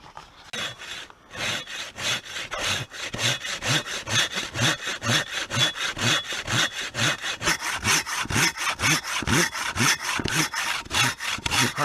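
A Silky hand saw cuts through old, hardened oak with steady, rhythmic push-pull strokes, close and fairly loud, about two to three rasping strokes per second continuing throughout with no talking.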